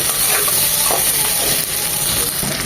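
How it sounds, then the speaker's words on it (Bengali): Potato pieces fry in a pan for Bengali shukto, giving a dense, continuous close sizzle with faint stirring rustles throughout. "আলুটা পাঁচ মিনিট ভেজে নেব তারপর বাকি সবজিগুলো ভাজবো একসাথে"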